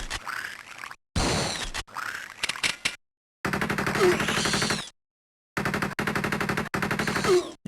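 Assault rifle gunfire in the Game Boy Advance game A Sound of Thunder, loud bursts of rapid automatic shots separated by short silent gaps, harsh and close.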